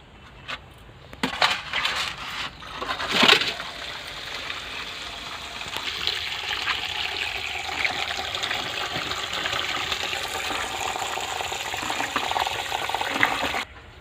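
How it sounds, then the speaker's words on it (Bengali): Big Sundarban crabs are washed in water, with splashing and sloshing, a burst of louder rinsing early on, then a steady running-water wash close by. "এবার কাঁকড়া ধুয়ে নেব"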